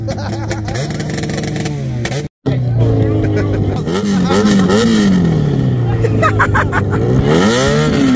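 Motorcycle engines at the 24 Hours of Le Mans, including a prepared Yamaha R1, revving loudly and steadily nearby, pitch rising and falling with repeated throttle blips over a crowd murmur and talk.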